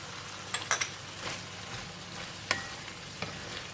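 Pork belly with long beans, chili and kaffir lime leaves stir-fried in a Thai pan, a soft steady sizzle broken by a few sharp clinks and scrapes of the utensil, quiet and close.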